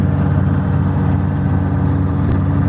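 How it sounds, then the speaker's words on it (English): A tractor engine on a Christmas tree farm drones steadily and loudly throughout while mowing, a continuous low rumble with no pauses and no talking. "I'm sorry if the tractor's loud."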